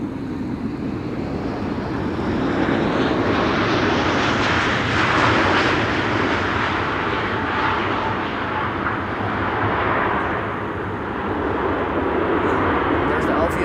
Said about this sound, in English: Indigo up next, 7-year-old airplane